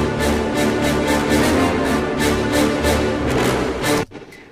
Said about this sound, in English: what I'm using here is I'm using the full brass ensemble effects patch